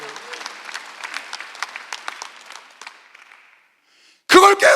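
A church congregation at a Sunday service claps in a crisp, fairly close patter that thins out and fades to near silence, then a loud voice breaks in at the end.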